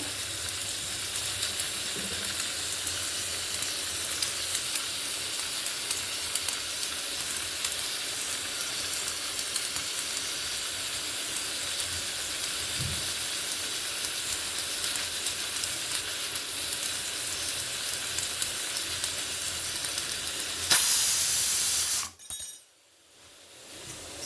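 A pressure cooker of katte pongali on a stove gives a long, steady hiss of escaping steam, then a sharp, loud whistling burst near the end before the sound abruptly drops away.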